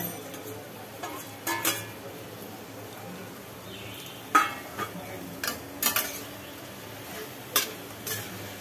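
Scattered scraping and clinking of a utensil stirring gourd and fried shrimp in a pan, irregular strokes over a faint sizzle.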